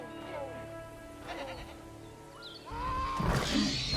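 Goats bleat in the dinosaur-park game Jurassic World Evolution: several wavering, nasal bleats call out one after another over a low ambient drone, with louder rumbling and commotion rising near the end.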